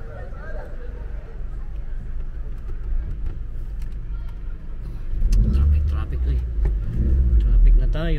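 Cars pass and rumble along a Manchester city street at midnight, a steady low traffic roar that swells louder as a vehicle accelerates nearby, with people chatting over it.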